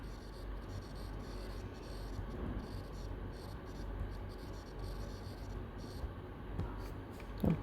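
Marker or chalk rubs across a board in soft, continuous strokes, faint and steady in a quiet room, with a brief louder tap at the very end.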